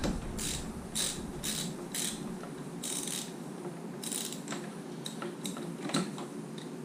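A ratchet wrench working on the rusty starter solenoid bolt of a 2005 Arctic Cat 400 4x4 ATV gives a series of quick clicking bursts in an irregular rhythm, close and fairly faint, over low background hum, with no talk.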